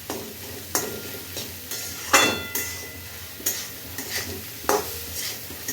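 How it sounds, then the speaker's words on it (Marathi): Wild greens stirred into browned fried onion in a pan, giving a soft continuous sizzle with several sharp scraping and clinking strokes of a spoon against the pan, close and fairly loud with no talking. "त्याच्यामध्ये आपण भाजी टाकून घेऊ. चांगली मिक्स करून घ्यायची आहे."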